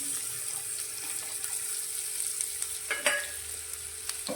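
Chopped onion sautés in oil with cumin, asafoetida and turmeric for agmagiyu, a steady low sizzle with a few brief stirring scrapes and clinks near the three-second mark; no one speaks.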